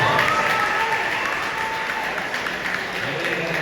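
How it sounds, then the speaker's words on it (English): An audience at a school investiture ceremony in Ghana gives sustained, even applause from a large crowd, a dense wash of many hands clapping that stays loud throughout, with faint voices mixed in. "Let's give them a big round of applause."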